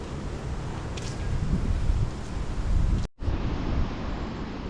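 Strong cold wind by the sea in Baler, roaring and buffeting the microphone in a loud, continuous rush with one brief dropout near the end.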